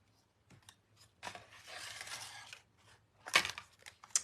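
Paper or card is snipped with scissors in a few short bursts, one longer sustained cut and a sharp final snip, close and fairly quiet with no talk.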